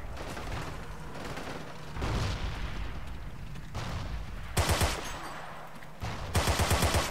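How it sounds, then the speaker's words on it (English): Machine gun fire in the World War II shooter game Forgotten Hope 2, with rapid rattling bursts that grow louder toward the end, heavy clustered shots over a steady rumbling battle background. "Okay, the machine gunner got him now."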